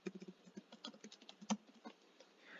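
Quick, light clicks on a computer come close together, like a mouse and keyboard in use, with one sharper click standing out midway, all in a quiet room.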